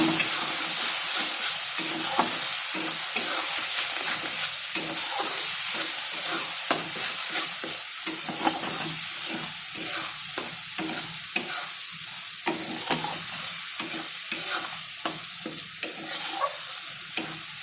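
Spices fry in a pan for fish curry while a spoon stirs them in quick repeated scrapes and clacks over a constant close sizzle, with no voices.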